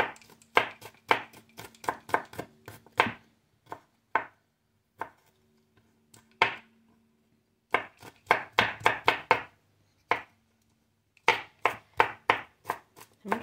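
Knife chopping ingredients for Lao mieng kaou after pounding them, fast bursts of close, sharp chops on a board separated by short pauses, no voices.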